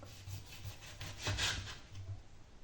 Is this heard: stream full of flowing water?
no